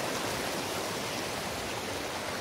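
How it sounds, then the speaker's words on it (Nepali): Mountain stream flowing in Mustang, a close, steady rushing gurgle of water over stones with no other sounds. "हामी खोला तर्दै गएको हौँ।"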